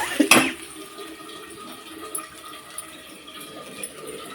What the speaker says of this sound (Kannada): ಯಜಮಾನ್ರು ಸ್ನಾನಕ್ಕೆ ನೀರು ಇಟ್ಕೋತಾ ಇದ್ದಾರೆ